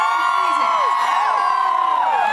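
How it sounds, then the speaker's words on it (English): A dense concert crowd at a winter jam show in Philadelphia cheers loudly and continuously, with many overlapping whoops and shouts rising and falling throughout. "Big round of applause for everybody on stage here."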